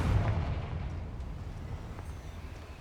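A Confringo fire spell explodes in Hogwarts Legacy inside the goblin mines, giving a low, rumbling blast that opens with a heavy boom and then rolls on as a steady roar, with no voices.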